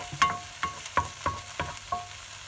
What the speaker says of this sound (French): on va rajouter les œufs pour faire des petits œufs brouillés